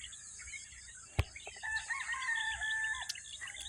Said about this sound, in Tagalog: marinig mo lang yung manok, ibon